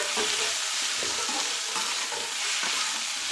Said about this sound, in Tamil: கேரட்டு, காய்க்கு தேவையான அளவு உப்பு சேர்த்துட்டு நல்லா வதக்கிக்கலாம்.